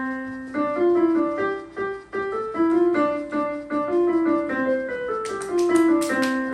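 Can-Can galop from Offenbach's Orpheus in the Underworld plays as a lively orchestral passage, bouncing repeated melody notes over steady accompaniment, with bright cymbal-like crashes near the end; no voices.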